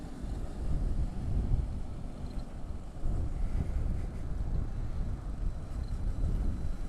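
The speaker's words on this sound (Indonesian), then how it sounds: "Masa sekencang itu sih anginnya" Strong wind buffets the microphone outdoors during an afternoon walk from Alam Sutera to Sunter, giving a heavy low rumble that surges and eases in gusts throughout, with no talk over it.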